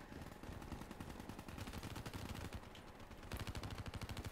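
Rapid automatic fire from the HVK-30 rifle in Black Ops 3, a dense, loud stream of sharp shots that continues without a break and grows punchier toward the end.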